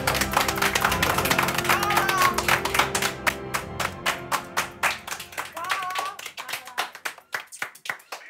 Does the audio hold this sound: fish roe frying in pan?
no